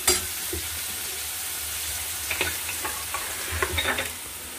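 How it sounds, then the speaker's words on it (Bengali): Chopped onion fries with black cumin in a pan for patal dorma, giving a steady close sizzle broken by clicks and scrapes from stirring, with no talk. "কুচনো পেঁয়াজটা দিয়ে আমি একটু ভেজে নেব"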